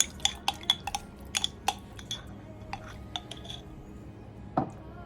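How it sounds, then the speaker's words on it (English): A spoon clinks and scrapes against a bowl while stirring a sourdough discard jalapeno biscuit mixture, giving a handful of sharp, close taps and chinks in an irregular rhythm with quiet gaps between them. "Give this a quick little stir."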